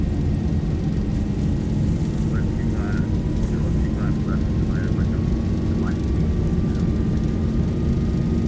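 Boeing 737 jet engines spooling at takeoff thrust in the X-Plane 11 flight simulator, a steady loud roar with a rising whine running the whole time beneath talk.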